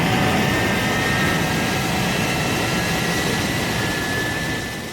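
Thunderbird 1 lifting off, a loud, continuous jet roar with a steady whine that holds evenly and fades slightly at the end, with no voices over it.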